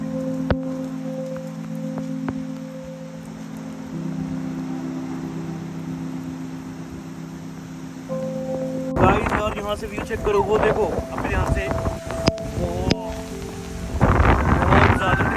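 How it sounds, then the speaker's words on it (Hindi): Heavy rain pours down steadily, a dense hiss drumming on surfaces, while people talk over it in the second half. "बहुत ज्यादा तेज बारिश आ रही है"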